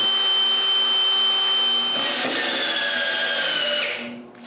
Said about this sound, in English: Put the top in place, clamp it, and screw it in place.